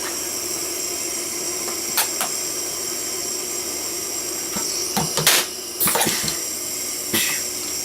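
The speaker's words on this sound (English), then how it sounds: "So let me weld a stud real quick here." A Soyer PTS 2 capacitor stud welder welding a stud: a few sharp, short cracks and bursts of hiss stand out over a constant whining shop hum, fairly close, with no one talking.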